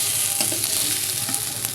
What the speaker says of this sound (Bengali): তেলের ভিতরে আমি পেঁয়াজগুলো দিয়ে দেবো